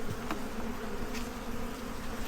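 A close, even hum of honey bees fills an opened hive box, the buzzing steady throughout with a few faint clicks and no voices.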